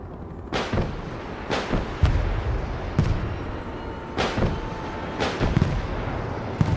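Anti-aircraft air defense guns fire in the video game Broken Arrow: repeated heavy booming shots at irregular intervals, loud and punchy over a low rumble, with no speech.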